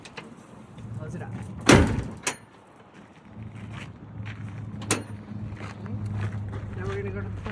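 A bus engine compartment door is shut during a pre-trip inspection, one loud slam with a short rattle and a smaller knock after it, then a low idling engine hum and someone talking.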